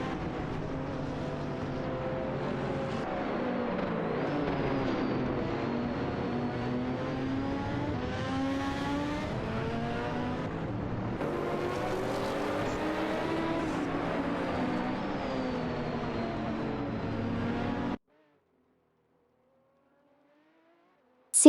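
Race cars in an AI racing video game, a Peugeot 908 and an Audi, drone and rev continuously at high volume for about eighteen seconds with shifting engine pitch, then cut to near silence.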